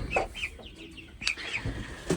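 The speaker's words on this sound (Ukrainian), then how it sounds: "в цьому загородці в нас оці ж курки підрощені" Young chickens in a pen clucking in short, irregular bursts, with a few sharper calls mixed in, fairly close by and with no one talking.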